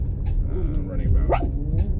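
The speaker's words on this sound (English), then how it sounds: "Is there another dog? So she's getting excited." A pet dog barks and yips excitedly in a couple of short, close bursts over steady background noise, reacting to another dog nearby.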